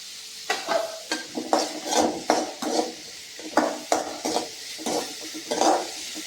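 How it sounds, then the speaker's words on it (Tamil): Shallots and tomatoes sautéing in a pan for vegetable soup, with repeated clanks and scrapes of a spoon stirring against the pan over a soft sizzle, in irregular bursts about every half second. "சின்ன வெங்காயமும் தக்காளியும் நல்லா வதக்கணும்"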